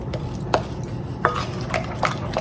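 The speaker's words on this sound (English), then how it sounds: "just mash them a little bit more against the side" Ripe bananas for pumpkin banana bread being mashed against the side of a mixing bowl, a run of soft, irregular squishing and scraping strokes, quiet and close with no talk.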